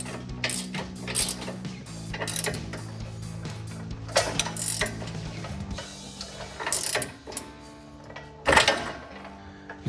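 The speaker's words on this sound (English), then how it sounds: "you can use the wrench to tighten" A ratchet wrench tightens the bolt on a front upper control arm of a 2021-2025 Ford F-150 during a lift install, clicking in repeated bursts of quick strokes with short pauses between them, close and fairly loud.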